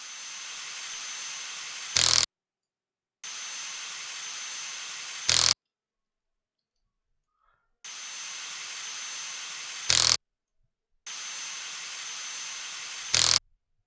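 A power tool runs wheel bolts down in four loud, steady bursts of about two seconds each. Each burst ends with a sharp rising surge, and short silent gaps separate them, with no talking.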